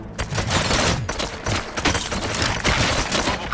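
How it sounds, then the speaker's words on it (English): Dense, rapid gunfire from RoboCop: Rogue City, a continuous loud fusillade of overlapping shots and bursts filling the whole stretch with only brief dips between volleys. "Gunshots? What's going on?"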